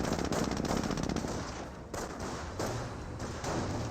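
Sustained machine gun fire from the World War II strategy game Company of Heroes, a dense, loud, continuous chatter of rapid shots with small gaps and thumps, no talk over it.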